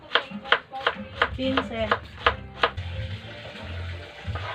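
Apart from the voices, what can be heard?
chopping radish with a knife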